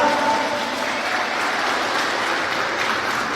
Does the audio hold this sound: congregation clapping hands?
yes